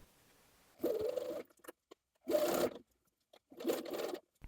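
A home sewing machine stitches a facing to the lower edge of a bomber jacket sleeve in three separate short runs with quiet pauses between them, close and moderately loud with no talking.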